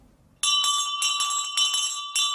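A bright bell rings loudly and repeatedly after a quiet start, strokes overlapping in a continuous metallic clangor.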